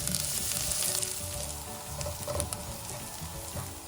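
Garlic, ginger and onion sauté together in a pan, a dense, continuous sizzle with faint scraping of stirring, close and fairly loud, with no voices.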